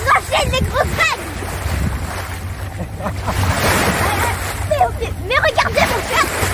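Big waves slap and splash around a boat at sea, with steady wind rumble and spray noise and scattered shouts and voices over the churning water.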